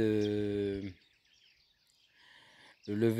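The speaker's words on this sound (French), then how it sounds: "Vous entendez les oiseaux, les chants des oiseaux." Birds chirp faintly in the open air at sunrise, soft scattered calls heard in a quiet gap between a person's speech.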